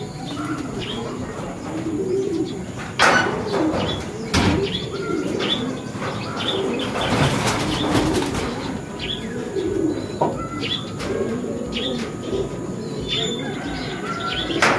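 Racing pigeons at a loft coo in a steady low murmur, broken by sudden bursts of wing flapping and scattered chirps, all fairly close and busy.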